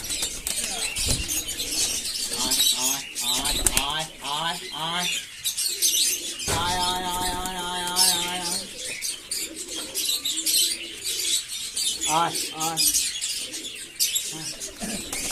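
Pigeons let out of a cage one by one give repeated throaty coos, with bursts of flapping wings and scattered chirps, nearby and fairly loud.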